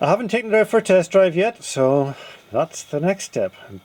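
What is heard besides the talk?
No everyday noise stands out behind the speech.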